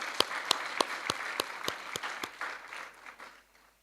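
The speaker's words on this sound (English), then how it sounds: "Can we give her a lustier round of applause?" Audience applause, starting with several sharp, evenly spaced claps over a crowd's clapping that gradually fades out within a few seconds.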